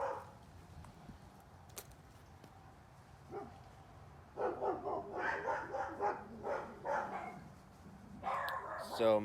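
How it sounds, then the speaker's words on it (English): Dogs break into a string of sharp, repeated barks after a quiet stretch, coming in uneven bursts at moderate distance, with faint background sounds in the lulls. "I'm going to record it with the dogs barking"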